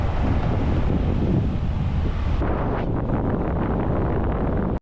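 Strong wind buffets the microphone outdoors on the Isle of Skye, a loud continuous roar that shifts in tone partway through, with no voices.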